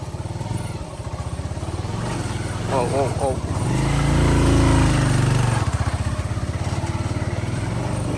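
Motorcycle carrying two riders pushes along a rough, trackless jungle path, its engine chugging steadily and close by, rising to a louder surge midway before settling back to a running drone.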